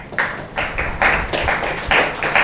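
An audience at a gathering in Mumbai claps in several short, loud bursts, the applause rising and dropping in a quick rhythm.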